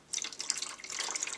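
Water poured into the reservoir of an AeroGarden Bounty indoor lettuce garden with the cover open, a steady close splashing trickle lasting over a second with no talk.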